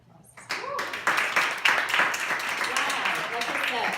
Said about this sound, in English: And let's give her applause.